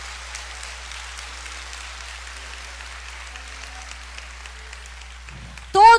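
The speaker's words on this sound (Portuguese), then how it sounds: "Você quer aplaudir ao Senhor?" A church congregation at a Sunday service applauds steadily, a soft, even wash of many hands clapping at a distance that fades near the end, where a brief louder sound cuts in.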